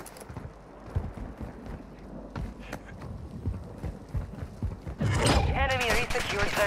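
Video game gunfire crackles in sharp bursts of shots over busy game ambience, followed near the end by a voice talking over the noise.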